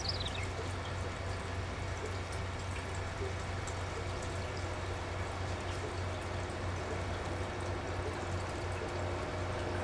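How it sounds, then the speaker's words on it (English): Water runs steadily into a newly set-up fish tank with no fish in it yet. The sound is a soft, continuous trickle and pour, fairly faint and unbroken, with a low background hum underneath. "that's why you hear water running in the background"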